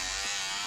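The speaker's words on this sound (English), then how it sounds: "behold, the razor shaver doohickey that I haven't used in like for friggin' ever" An old electric razor, just taken apart, cleaned and repaired, gives a steady, continuous motor buzz that holds for the whole brief moment, fairly close and alone.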